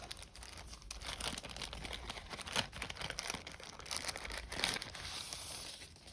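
A small plastic bag crinkles as a Powkiddy RGB30 handheld is unboxed, with steady rustling and sharper crackling bursts close by at low volume and no talking.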